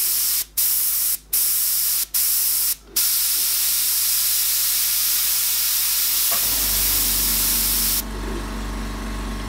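An airbrush sprays black paint onto a Joker artwork, giving a steady close hiss cut by four short pauses, followed by a long continuous spray whose tone shifts near the end.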